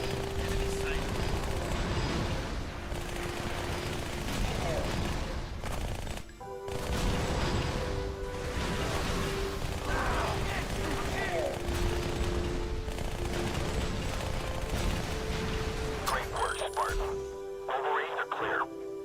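Rapid automatic gunfire and grenade blasts from the twin-stick Halo: Spartan Assault, a dense continuous barrage of game combat sounds with a steady tonal hum beneath and a brief lull near the six-second mark.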